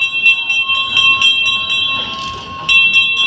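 A high hand bell rings steadily and repeatedly over the loud rumble of a moving amusement park train at a water park, close by and continuous throughout.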